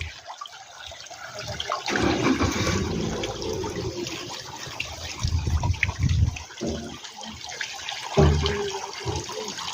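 Water splashing and trickling in an outdoor fountain in Basco, Batanes, a steady rushing flow with louder surges, heard close with no talk over it.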